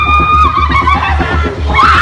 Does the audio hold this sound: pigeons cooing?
no